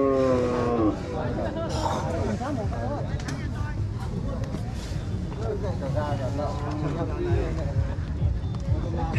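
Water buffalo and cattle low and moo repeatedly at a busy livestock market in Cốc Ly, the calls mixed with crowd chatter and someone talking close by.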